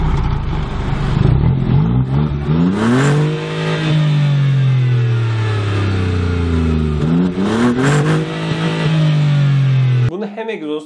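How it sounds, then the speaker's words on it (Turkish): Three-cylinder car engine revving with a raspy, slightly aggressive exhaust note, climbing and falling in two long close rev sweeps that cut off sharply at the end. "3 silindir de böyle hafif hırıltılı, hafif agresif bir sesi olur."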